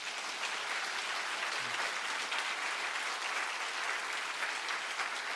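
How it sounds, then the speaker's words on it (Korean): A church congregation applauds together at a New Year revival evening service, giving a dense, steady round of clapping that fills the whole stretch at an even level without pause. "하나님께 영광의 박수 돌리겠습니다."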